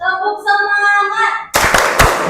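Children standing in a classroom break into a rhythmic spirit clap, a burst of loud close hand claps following a sung or chanted passage by young voices.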